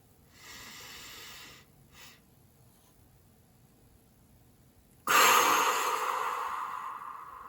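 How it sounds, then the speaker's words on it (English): A person takes one slow, deep breath, a soft airy inhale followed by a pause, then a louder, longer exhale that gradually fades, close and alone with no talk. "Just one deep breath like that."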